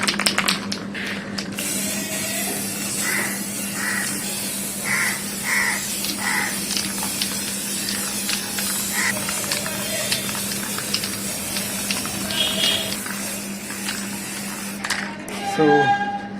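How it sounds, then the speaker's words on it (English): Abro clear coat lacquer is sprayed from an aerosol can onto Tata Altroz wheel caps outdoors: a steady hiss broken into short bursts, with crows cawing in the background. "This is the Abro brand clear coat"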